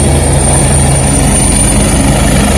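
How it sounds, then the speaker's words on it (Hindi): A helicopter flies close by near Kedarnath in the Himalayas, its rotor chop and turbine whine loud, steady and continuous throughout, with no voices. "ये देखिए फिर दूसरा हेली आया।"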